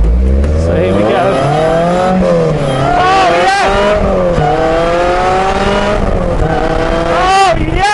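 A supercharged Ariel Atom with a loud non-standard exhaust accelerates hard, its engine note climbing through repeated rising sweeps with brief gear-change dips, loud and close throughout.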